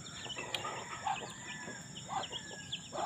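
Chickens on a rural Filipino farm plot call out in a series of short clucks and crow-like cries over steady outdoor background noise, moderately near and fairly loud.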